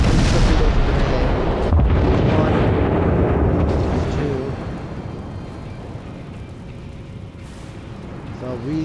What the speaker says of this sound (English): these torpedoes are gonna hit